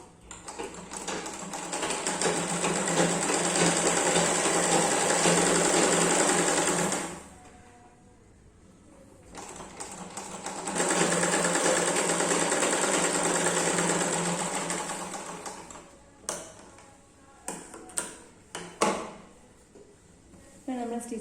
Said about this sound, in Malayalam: ഇതിൻ്റെ അരികും ഈ തുണിയുമായിട്ടൊന്ന് സ്റ്റിച്ച് ചെയ്തെടുക്കാം.